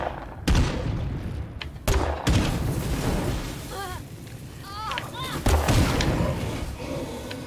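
Several heavy gunshots boom out in sharp bursts amid continuous game noise and chirping effects, loud and close, in State of Decay 2.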